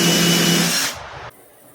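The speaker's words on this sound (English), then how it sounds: "Try number 2 with a new bit of sandpaper." A power sander working sandpaper into a hole in a boat hull, giving a brief loud abrasive whir that winds down and stops after about a second.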